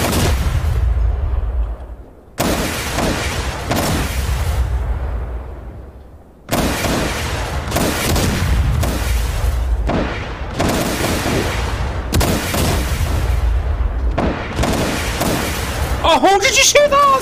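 WWII FlaK 37 anti-aircraft guns firing in DCS World, heavy booming bursts that come repeatedly for most of the stretch, with a short lull and loud, dense blasts throughout, layered with rumbling explosions.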